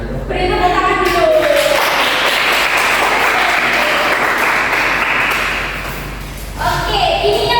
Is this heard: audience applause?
yes